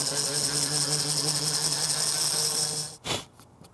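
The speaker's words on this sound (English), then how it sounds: "I have my rotary tool with a little round grinding bit" A handheld rotary tool with a small round grinding bit roughs up a cured resin dagger piece, giving a steady close whine and grind that cuts off near the end with a short burst of noise.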